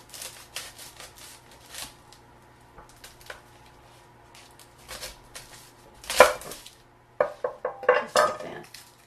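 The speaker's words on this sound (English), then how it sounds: "Now we'll take this garlic and we'll just cut it in half." A knife cuts through garlic on a board for vegetable broth, with scattered light taps and clatters that build to a louder cluster of sharp chops and knocks near the end, close by with no talk.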